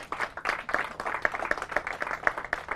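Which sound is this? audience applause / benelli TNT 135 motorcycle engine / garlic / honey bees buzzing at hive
audience applause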